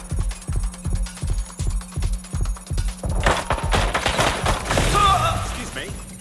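Rapid bursts of gunfire in the video game Watch Dogs Legion, a rhythmic stream of sharp shots early on giving way to heavier, denser firing and impacts, with in-game voices calling out over the action.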